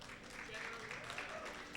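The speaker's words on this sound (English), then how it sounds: "A big round of applause for Biggie Mac." A crowd applauds at a 2025 Classic Tetris regional tournament in Washington State. The clapping is brief and fairly faint, a steady wash of many hands.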